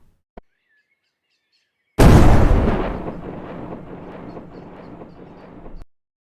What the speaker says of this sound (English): So that explosion is, quality wise, that was an amazing sound.